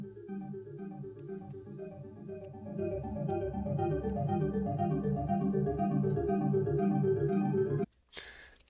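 A rich, layered music track plays steadily at moderate volume, with dense low and mid tones swelling midway before cutting off abruptly near the end.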